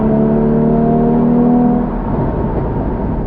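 A loud Porsche 981 Cayman GTS manual sports car engine drones with a steady, rich tone, then eases off and changes pitch partway through. No voices are heard.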